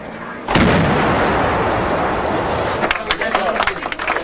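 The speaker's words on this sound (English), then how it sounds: "30 seconds, 45 seconds later, a second explosion." An explosion from a TV documentary on the SAS storming of the Iranian Embassy siege: a sudden loud boom with a long, heavy rumble, followed by crackling bursts like gunfire as the noise breaks up.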